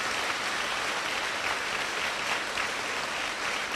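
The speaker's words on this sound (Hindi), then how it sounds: "जोर से तालियां बजा के प्रभु धन्यवाद दीजिए" A church congregation claps loudly and continuously in thanks, a dense, even wash of many hands sustained without pause and close at hand.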